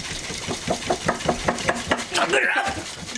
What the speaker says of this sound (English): So I'm going to dry shake it.